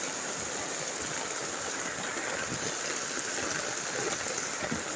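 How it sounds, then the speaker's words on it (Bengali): Heavy rain pouring down outdoors over flooded drains, a dense, loud, unbroken hiss of water that stays steady for the whole stretch. "হ্যাঁ প্রচুর জল হচ্ছে গো, আজকে প্রচুর জল"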